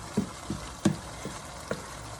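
Hamburger slider meat cooking down in a pan, a low steady sizzle broken by a few soft knocks and ticks.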